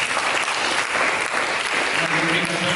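A church congregation claps for Jesus during a Sunday service, dense steady applause filling the room with a voice faintly audible beneath.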